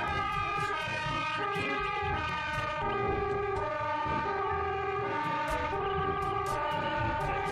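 A toy ambulance siren sounds on its own, holding a loud, steady electronic wail with a repeating tone pattern from start to finish.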